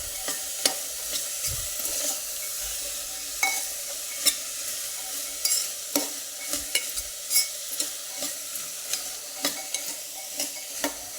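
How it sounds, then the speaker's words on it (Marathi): Dried harbhara chickpeas being stirred in a pan, a spoon scraping and knocking in irregular bursts over a soft, steady sizzle, close and clear with no talk. "हलवत राहायचं।"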